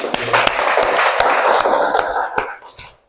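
A class applauds after a group presentation in a coding and artificial intelligence lesson, a brief burst of clapping of about three seconds that thins out and stops at the end.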